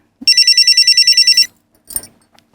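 A telephone bell rings in a rapid burst of repeated trills, loud and close, then stops, followed by a brief soft clatter like a receiver being picked up, in a police station setting.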